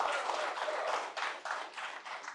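A small group at a live music show claps and applauds for a couple of seconds, uneven bursts of hand claps close by.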